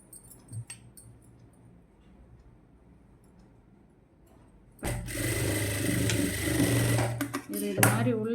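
A sewing machine stitches fabric along a garment neckline, starting after a quiet stretch of faint handling and then running as a loud, continuous, close whirring hum with small ticks and pauses near the end.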